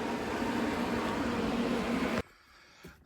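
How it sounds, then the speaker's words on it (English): Electric space heater running in a cold workshop, a steady loud whooshing fan hum that cuts off abruptly partway through, leaving near silence with a faint knock. "Sorry for the noise, I got the heater in the back."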